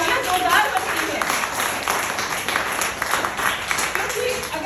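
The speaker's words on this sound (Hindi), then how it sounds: "ये तालियां जोरदार बनती है" Audience applause at a business and life coaching talk, a dense continuous wash of clapping held at a steady, fairly loud level throughout.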